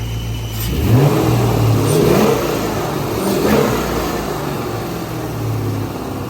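A BMW E30 M3 engine revs up near the microphone, rising and falling a few times before settling into a steady, throaty hum.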